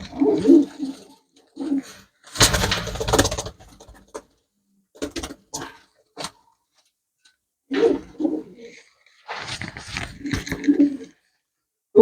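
Pigeons coo in short, throaty bursts, several rounds of low rolling calls spaced by quiet pauses, close and fairly loud, with a few scuffling knocks between them.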